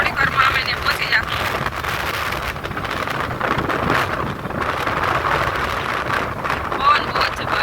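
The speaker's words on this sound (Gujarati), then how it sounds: "પવન બહુ જ છે, ફોને હાથમાં નથી રહેતો." Strong wind buffets a handheld phone microphone near the Sudarshan Setu bridge at Bet Dwarka, a loud, constant rumbling roar that fills the whole stretch with no clear pauses.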